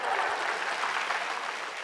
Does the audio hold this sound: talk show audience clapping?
yes